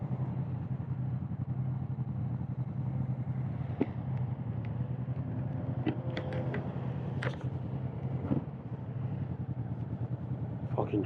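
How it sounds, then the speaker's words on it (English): A Moto Guzzi motorcycle runs in slow, congested traffic alongside lorries, its mid-pitched engine idling and rumbling steadily under wind noise, with a few brief clicks and mechanical sounds scattered through. "Got some Moto Guzzi."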